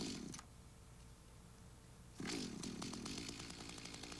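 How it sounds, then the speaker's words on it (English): A Mantis tiller's small engine drones steadily after the choke is pushed in, then its revs rise sharply partway through into a louder, even buzz, heard close with no talk. "Now you can push the choke in again, and the motor runs smoothly and cleanly."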